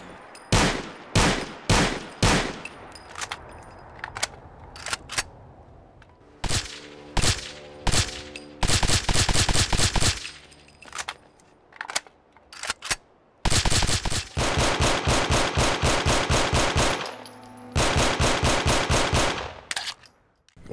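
Modded pistol firing in the video game Fallout 4, sharp loud shots in short bursts and rapid strings, some single cracks and some fast runs, separated by brief silences with no talking.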